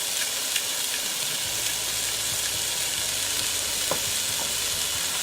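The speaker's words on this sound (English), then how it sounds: "throw a little olive oil in there, drop in your pepper, a little garlic powder, pepper" Peppers with garlic powder and pepper sizzling in olive oil inside a Ninja Foodi, a steady frying hiss throughout with faint stirring clicks, no voices.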